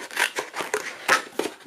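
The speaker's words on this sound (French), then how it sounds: "je viens prendre mon papier craft, comme ceci. Et je vais venir découper" Scissors snip through a piece of kraft paper for a 3D coffee cup card, a quick series of close, crisp cuts in rapid rhythm.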